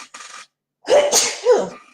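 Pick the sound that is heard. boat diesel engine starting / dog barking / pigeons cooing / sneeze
sneeze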